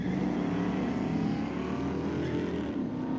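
Street-legal drag racing cars, a Camaro against a Chevelle, roar at full throttle on a raceway, a dense, steady engine blare that holds loud and unbroken for the full stretch.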